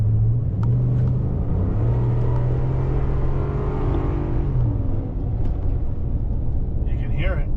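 A 2013 Ford F-150 with a Flowmaster exhaust accelerates from about 40 mph, a deep rumbling drone rising in pitch inside the cab, with a voice briefly heard near the end.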